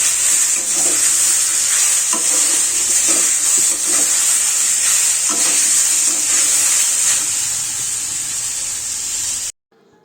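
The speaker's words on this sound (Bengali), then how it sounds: "ভাজা দেখো, উচ্ছে ভাজা করবো" Sliced bitter gourd fries in a pan with a loud, continuous sizzle and occasional stirring scrapes, close and without speech, ending abruptly.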